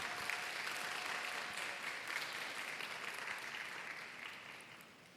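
Applause from a young adults' church congregation welcoming an engaged couple to the front: a steady, distant-sounding wash of many hands clapping that slowly fades toward the end.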